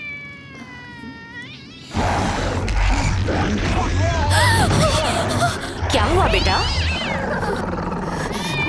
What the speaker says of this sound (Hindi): ये बिल्लियाँ ऐसे कभी नहीं रोती।